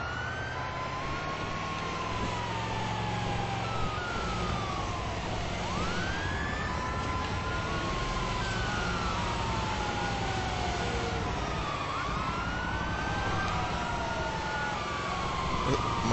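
Video-game ambulance sirens wailing continuously, several overlapping rising and falling sweeps layered over a rumbling engine bed, loud and sustained throughout, with faint chatter underneath.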